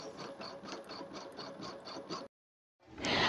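A Brother VE2200 single-needle embroidery machine stitches on an heirloom blanket with a steady, rapid mechanical chatter, evenly pulsed and close, then stops abruptly before a burst of broader handling noise.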